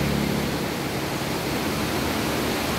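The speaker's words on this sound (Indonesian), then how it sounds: "Ini adalah pintu bukaan bendungan Bili-Bili" Water rushes through the open spillway gate of the Bili-Bili dam on the Jeneberang River, a dense, steady roar with no pauses or voices.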